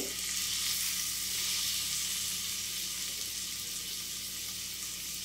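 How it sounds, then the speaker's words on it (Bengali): Chicken skewers fry in melted butter in a pan, giving a steady, close, even sizzle with no voices. "দিয়ে চিকেনগুলোকে ওয়েল ফ্রাইড হতে দেবে।"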